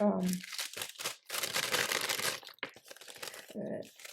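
Wax paper cookie bags crinkle and rustle in bursts as they are handled, close and fairly loud, with a person talking intermittently over the handling.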